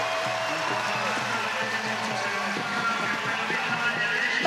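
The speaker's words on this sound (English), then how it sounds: "That is probably the loudest cheer of the day, and it is for Vittoria Zanetti" Stadium crowd at a women's Six Nations rugby match between Italy and Scotland, a broad sustained roar of cheering that holds steady and loud throughout, with a mix of voices underneath.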